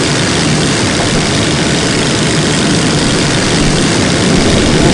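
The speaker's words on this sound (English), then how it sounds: "I heard an engine noise." Sopwith Camel biplane engine in the ArmA video game, a loud, steady propeller drone that holds unbroken throughout.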